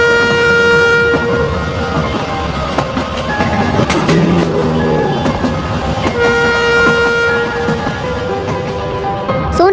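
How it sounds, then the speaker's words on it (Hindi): A cartoon train pulls away with a long, loud horn blast at the start and repeated toots near the end, over a steady rumble of rolling wheels and carriages. "तभी ट्रेन शुरू हो जाती है।"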